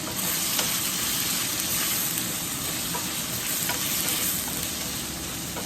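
Paneer fry cooking with salt in a pan, a continuous close sizzle and hiss of frying with faint scraping from stirring, steady and even throughout with no voices.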